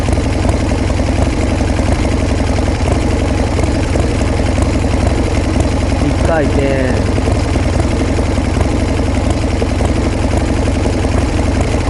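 A Harley-Davidson Sportster engine with an HSR carburetor idles loudly and close by during carburetor adjustment, a steady rumbling throb that runs throughout while someone speaks briefly over it.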